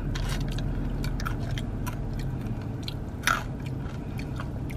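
Someone bites into and chews a Wendy's loaded nacho burger with tortilla strips and crunchy corn nuts, giving close, crisp crunching and chewing sounds and one sharper bite, with no talking.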